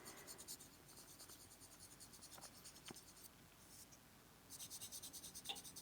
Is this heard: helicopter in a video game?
no